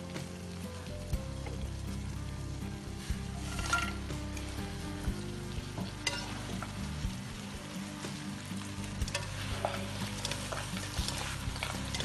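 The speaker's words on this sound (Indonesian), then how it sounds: "Lalu ini jamur dimasukin dengan cakwe goreng ya." Mushrooms and fried cakwe are stirred into a thickened sauce in a pan, giving a continuous wet scraping and gentle sizzle with soft clinks from the utensil, close and steady.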